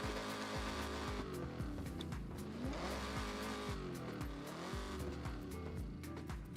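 An Italian exotic car fitted with a race exhaust in the Forza Horizon racing game roars steadily, its engine rising and falling through repeated upshifts, with brief tire squeal, loud and close with no talking.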